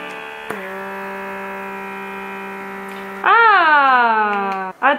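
An electric blackhead suction extractor runs with a steady buzzing hum, then its pitch bends and surges louder as the suction tip engages. It returns briefly near the end, close up, with no voice over it.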